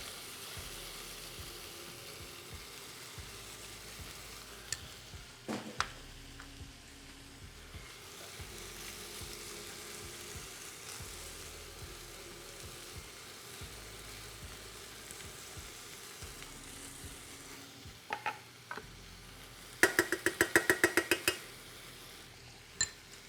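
Tomato paste and garlic frying in a pan, a quiet steady sizzle with a few knocks and a quick burst of rapid clinking taps near the end.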